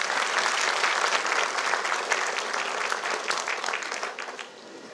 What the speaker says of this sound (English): So I say we all give them a round of applause for doing this for us today.